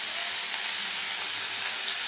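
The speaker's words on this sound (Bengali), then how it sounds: "এবার আমি এই মাছের তেলে বেটে রাখা পেঁয়াজ আর রসুন দিয়ে দিলাম।" Ground onion and garlic paste hits hot oil left from frying fish, making a steady, bright, hissing sizzle that carries on evenly with no voices.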